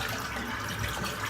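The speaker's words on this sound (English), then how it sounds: "I'm just going to empty this water out, it's getting a bit murky." Murky shaving water being emptied from a sink drains as a steady, soft gurgling rush that runs continuously without breaks, close by and with no talking over it.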